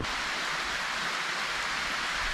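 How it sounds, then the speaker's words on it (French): Steady rain falls in a continuous dense hiss, loud and even throughout, with no voices. "vous avez compris, il pleut"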